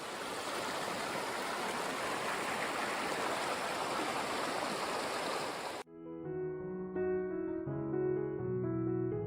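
A river flows through a hemlock forest, a steady broadband rush of water, close and continuous, that stops abruptly and gives way to music.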